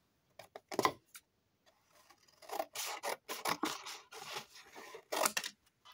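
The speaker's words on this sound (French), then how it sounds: "Et on coupe tout autour. Hop, le ciseau." Scissors snip through paper while a mini paper album is being cut out for a craft project: a few separate rasping cuts, then a longer run of close, steady snipping strokes.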